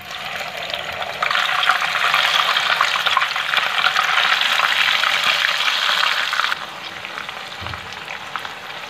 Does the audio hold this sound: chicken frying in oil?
yes